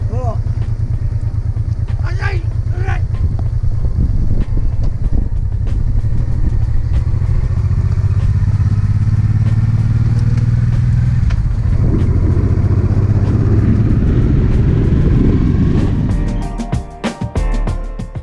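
A Honda 650 Deauville motorcycle climbs a mountain road in Spain, its engine a loud steady drone that shifts pitch as it rides, then drops away near the end with some brief clicks.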